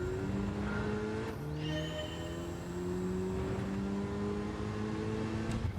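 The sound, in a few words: car engine revving in a driving video game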